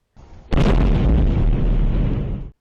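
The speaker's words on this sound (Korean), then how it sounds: "검은 밤하늘에 번쩍이는 불빛과 함께 폭발 소리가 이어집니다." A loud explosion bursts at night during a drone attack on Moscow, starting with a faint rumble before a sudden heavy boom that rolls on and sustains for about two seconds.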